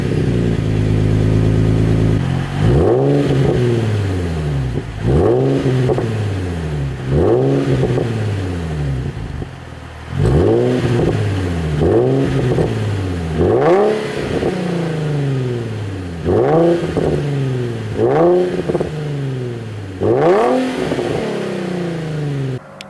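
Nissan 350Z with its VQ V6 revving hard and loud, close by, in a steady rhythm of about a dozen sharp throttle blips that rise and fall roughly every one to two seconds, with no talk.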